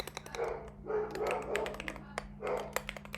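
Pet dogs indoors bark in several loud, rough bursts, sometimes in quick runs of barks. Clicks of computer keyboard typing sound between the bursts.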